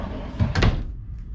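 A drawer in a 21-foot Coleman Lantern LT 17B travel trailer slides and shuts with a quick wooden rattle and a firm knock, close and loud, with no talking.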